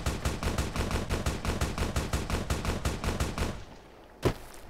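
Rapid automatic gunfire in Fallout: New Vegas, loud, steady and evenly spaced for about four seconds, then breaking off into quiet before one last sharp shot.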